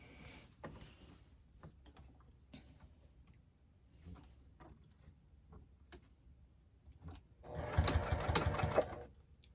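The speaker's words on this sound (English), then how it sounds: "I'm going to go ahead and top stitch all the way around using an 1/8 of an inch seam allowance" A sewing machine topstitches around a fabric bowl cozy, a quiet ticking run that ends in a louder, brief burst of rapid stitching.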